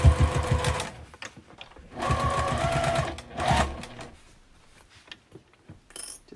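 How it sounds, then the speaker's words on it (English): A sewing machine stitches along the edge of fabric on a beginner Christmas tree project, running in short close bursts of rapid mechanical chatter separated by brief pauses. "And I'm just going to sew right along the edge."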